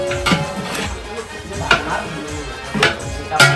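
A stone mortar and pestle, khalbatta, pounds spices for a village-style Agri mutton dish, with sharp irregular strikes landing a few times against a low background murmur.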